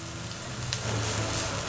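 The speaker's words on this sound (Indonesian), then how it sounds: "Kita tumis sampai harum bawang bombaynya" Onion sautéing in leftover oil from frying eggs gives a soft, steady sizzle and crackle, close and continuous with no voices.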